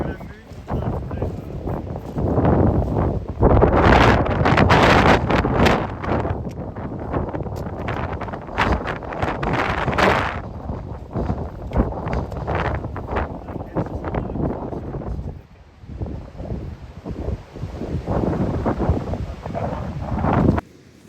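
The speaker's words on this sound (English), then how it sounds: "Careful, the wind's coming, huh?" Gusty wind buffets the microphone outdoors in loud, rumbling bursts, strongest early on, while people talk over it throughout.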